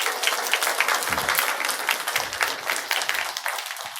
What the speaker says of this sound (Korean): 축하의 박수 한번 하도록 하겠습니다